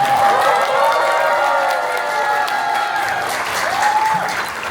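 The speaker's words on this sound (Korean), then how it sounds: "격려의 박수 큰 박수" Warm applause from an audience at the 2023 Creative Force Awards, steady, dense clapping with faint cheers, continuing for several seconds before tapering slightly.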